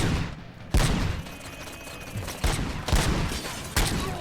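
Gunfire in RoboCop: Rogue City, with several loud, sharp shots breaking out in irregular bursts over a steady background of game noise, close and without talk.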